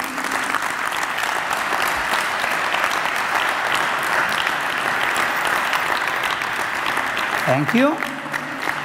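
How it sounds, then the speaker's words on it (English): Sustained loud audience applause for a dance demonstration couple at a Latin dance lecture, a dense unbroken wash of clapping with a voice speaking briefly near the end. "Big applause for them, please."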